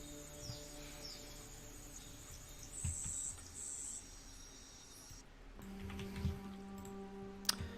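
Bush crickets chirp at night in the ant strategy game Empires of the Undergrowth, with steady, high-pitched insect trills layered over a low ambient game drone and a few brief clicks, and no voices.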